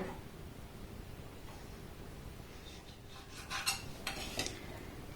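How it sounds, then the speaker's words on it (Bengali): A knife slices dough into thin strips on a board, soft scraping at first, then a few sharper cuts toward the end, quiet and close. "এইভাবে একটু সরু সরু করে আমি কেটে নেব"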